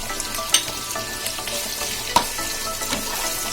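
Steady crackling sizzle of mutton frying in a pan with ginger-garlic paste, with a couple of sharp clatters of a utensil stirring, no voices.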